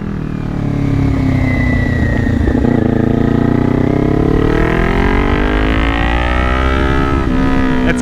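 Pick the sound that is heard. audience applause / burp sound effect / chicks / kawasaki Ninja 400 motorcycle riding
kawasaki Ninja 400 motorcycle riding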